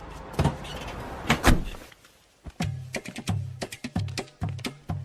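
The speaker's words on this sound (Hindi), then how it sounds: "तुम बाहर से दरवाजा बंद कर दो।" A door is pushed shut with a sharp thud, followed by a rapid series of close knocks and thumps over a steady low hum.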